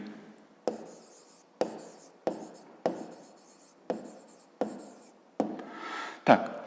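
Handwriting on paper during a fifth-grade maths exercise: a series of short pen strokes, each starting with a tap and fading, in a regular rhythm, close and quiet.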